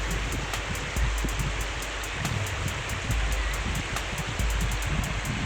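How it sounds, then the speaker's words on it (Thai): Khlong Maduea waterfall in Nakhon Nayok pours with low water near the cool season, making a steady broadband rush, with light ticking and wind buffeting on the microphone. "พาเพื่อนๆชมน้ำตกก่อน"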